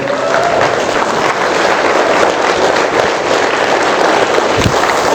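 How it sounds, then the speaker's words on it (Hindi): Large audience at a motivational event gives loud, sustained applause, a dense roar of clapping with crowd noise and an occasional sharp thump. "एक बार जोरदार तालियां बजा दीजिए प्लीज"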